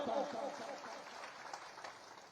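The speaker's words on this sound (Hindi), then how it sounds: "जोरदार तालियों के साथ।" A large crowd at a chief minister's development rally in Prithvipur, Niwari, claps continuously, a dense, moderately loud wash of applause that fades slightly over the span with some voices mixed in.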